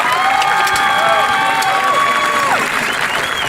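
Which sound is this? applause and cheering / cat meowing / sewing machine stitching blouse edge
applause and cheering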